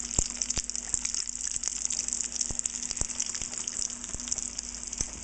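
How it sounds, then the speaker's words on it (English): Panko-breaded shrimp fry in hot grease, a steady, dense hiss and sizzle with scattered sharp pops and crackles, close and continuous throughout. "Took a second of mixing them with all that hot heat for them to start frying harder."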